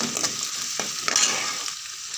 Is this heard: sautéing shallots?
yes